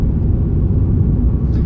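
Steady low road rumble fills the cabin of a moving 2012 Scion xB compact car with about 153,000 miles, a constant dull drone at even loudness with no voices.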